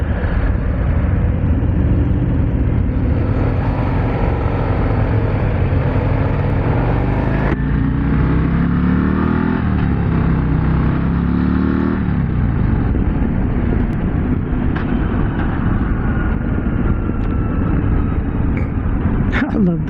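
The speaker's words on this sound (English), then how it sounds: "I love the sound of this bike," A 2024 Harley-Davidson CVO Road Glide ST motorcycle engine rumbles loudly and steadily. Its pitch rises and falls with a rev partway through, and talking is heard over the engine.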